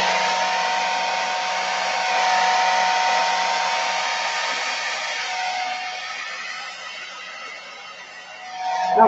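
A hair dryer on its turbo setting, used for acrylic pouring, roars loudly and steadily at close range for several seconds with no speech.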